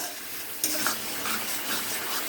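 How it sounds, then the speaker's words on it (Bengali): Spice paste with whole green chillies frying in hot oil, a steady close sizzle with soft stirring scrapes and a brief clatter of the spoon against the pan, no voices. "ভালো করে মশলাটা কষানো হবে"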